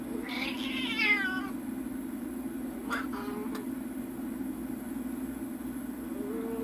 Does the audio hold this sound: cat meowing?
yes